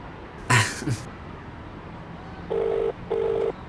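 A phone call being placed, with two evenly spaced ringback tones near the end after a brief burst of handling noise or a cough earlier, heard close and fairly quiet in an otherwise still room.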